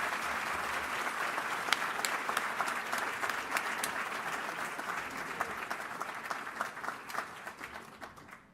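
An audience applauds in a hall to welcome NYU President Andrew Hamilton at an Alumni Day State of the University address, with steady, dense clapping fading slightly toward the end.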